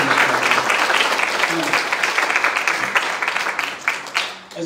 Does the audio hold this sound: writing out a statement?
no